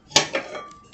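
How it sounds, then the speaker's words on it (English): Dishes clink as cooked lamb's quarter greens with buttermilk are served into a dish. A sharp clink is followed by a softer tap and a fading ring, all within a second, close and without talk. "Let's serve some into the dish."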